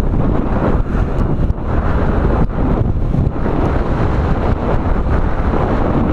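Heavy wind buffeting a microphone while riding a motorcycle, a constant loud low roar with brief dips, filling the whole stretch without speech.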